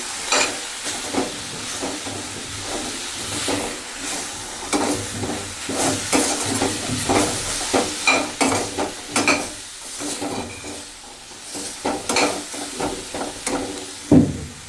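Boiled beans being stirred into methi (fenugreek leaf) sabji in a pan, with a steady soft sizzle and repeated scraping, clinking spoon strokes across the whole stretch, no talking.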